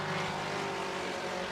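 A TCR UK touring race car with a cracked exhaust drones loudly past at Donington Park, giving a dense, raspy, buzzing engine note that holds steady throughout.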